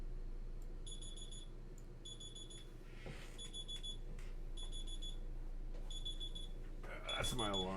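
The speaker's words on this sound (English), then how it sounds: "That's my alarm for" An alarm clock beeps in repeated short bursts of bright electronic tones, steady and moderately loud over a quiet room hum, with a brief rustle and a voice near the end.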